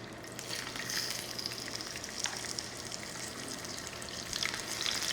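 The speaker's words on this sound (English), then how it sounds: "You can hear it starting to sizzle." Steady crackling sizzle of carnitas meat frying in a hot pan, continuous and close, with faint popping throughout.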